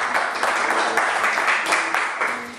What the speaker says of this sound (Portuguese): Uma salva de palmas para Jesus que Ele merece.